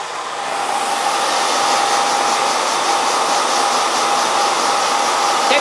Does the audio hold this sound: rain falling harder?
no